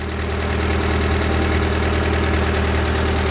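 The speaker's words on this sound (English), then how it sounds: "Hydraulics go up and down." A Ford 2N tractor engine runs steadily at a loud, close idle with a rough, knocking pulse and vibration while the hydraulics work, with no voices over the constant mechanical drone.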